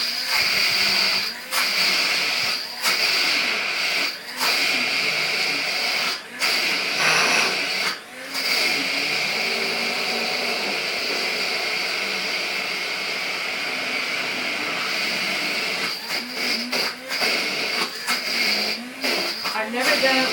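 A handheld stick blender whirs while blending mustard in a kitchen, a steady high motor whine broken by frequent short stops and restarts, with a voice talking over it at points.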